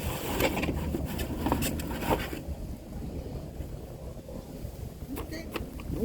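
Gusty wind buffeting around a one-meter RC sailboat on the water, with rough bursts of wind noise that rise and fall, and a voice speaking briefly.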